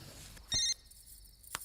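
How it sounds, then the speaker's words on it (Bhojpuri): A phone ringing indoors at night, one short electronic ring burst followed by a faint sustained tone, then a sharp click, quiet and alone. "भूमि के फोन"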